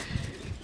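Pigeons sold as flying pairs at a bird market give a couple of soft, low, brief coos close by, with faint background murmur.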